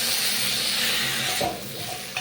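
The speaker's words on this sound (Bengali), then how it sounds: "একটু জল দিয়ে দিয়েছি, হ্যাঁ জল দিয়ে মশলাটা কষিয়ে এবার ঝোলের জল ঢেলে দেবো" Water poured into a pan of frying spice paste for a katla fish curry with potatoes, giving a loud, steady steamy sizzle that softens toward the end with a faint scrape of stirring.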